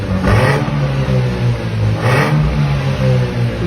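A car engine fitted with aftermarket exhaust tips revs up twice in quick bursts, loud and close, settling back to a rumbling idle between the throttle blips.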